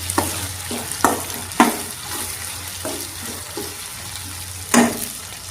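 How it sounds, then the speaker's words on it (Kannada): Tomato sizzling and frying in hot oil while a spoon stirs it in the pan, with a steady hiss and several distinct scraping stirs at irregular intervals, close up, no talking. "ಟೊಮೆಟೊನೂ ಅಷ್ಟೇ ಚೆನ್ನಾಗಿ ಫ್ರೈ ಮಾಡ್ಕೊಂಡು ಬಾಡಿಸ್ಕೊಳ್ಬೇಕು."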